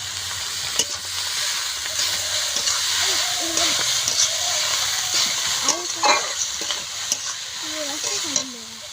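Egg chowmein is stir-fried in a hot pan, loud sizzling under repeated scraping and tossing of the noodles, with a voice speaking over the frying.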